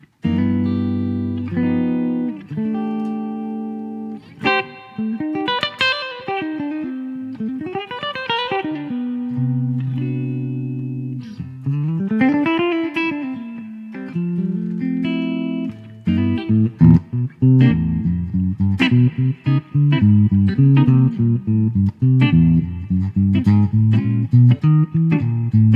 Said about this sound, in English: I'm using a 410 British type of cabinet with the condenser 87 again, so we can get some nice kind of warm jazz type sounds out of it.